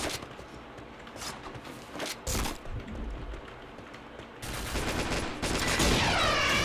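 Gunfire in a video game, with bursts of rapid shots and sharp cracks coming in clusters, the densest volleys near the start and end, loud and close, with no talk over them.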